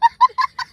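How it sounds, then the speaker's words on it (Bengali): Poultry chicken clucking up close, four quick, loud clucks in a brisk rhythm with no other sound around them. "আর এদিকে হচ্ছে এই যে পোলট্রি মুরগি, যেটা সেমিফাইনালে প্রাইজ দিয়েছে এই দীপ ভাই"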